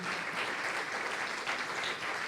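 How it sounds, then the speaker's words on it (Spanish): A church congregation claps loudly and steadily for the worship team stepping down, a dense, even wash of applause filling the room throughout. "¿Cuántos dan un fuerte aplauso ahí que están bajando los hermanos de la adoración?"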